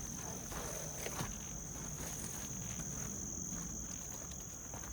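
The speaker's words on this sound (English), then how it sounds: "listen to the cicadas, the peepers, the birds." Continuous high insect trilling of cicadas and peepers in a Massachusetts state forest in fall, a faint steady drone with a few soft footstep-like taps underneath and no talking.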